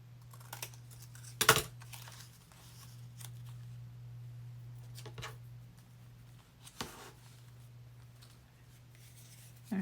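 Scissors trim a paper store receipt for a junk journal, with a few sharp, quiet snips spaced apart amid faint paper rustling in a still room.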